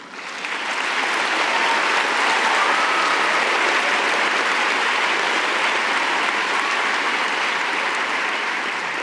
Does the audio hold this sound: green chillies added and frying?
no